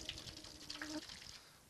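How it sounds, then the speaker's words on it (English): Liquid poured into a pan, a soft continuous gush and trickle with faint splashy detail, fairly quiet and close, tapering off toward the end. "Let's pour these in this pan"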